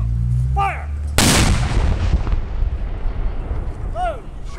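A Confederate re-enactors' cannon at Franklin, North Carolina fires one huge, close boom that rolls off into a long rumbling decay, with voices calling out just before and again a few seconds later.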